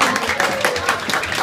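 Audience applause at Gina Liano's VIP book launch in Melbourne, a dense steady patter of many hands clapping throughout, fairly loud, with no pause.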